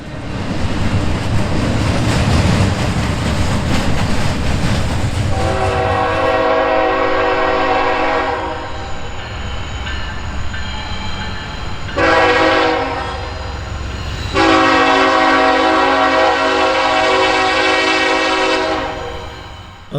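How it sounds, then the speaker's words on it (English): A Norfolk Southern westbound mixed freight train sounds its horn in several long blasts, loud and close, with a short break between them, over the steady rumble of the train rolling along the main line, with no talk. "we caught NS 1068, the Erie Heritage Unit, riding in the 3rd position on a westbound mixed freight"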